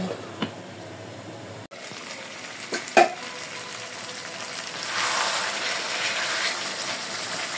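Mutton sizzles in a pan of oil while being fried down, a soft crackling hiss that swells louder in the second half, with a few clinks of a utensil and some low talk.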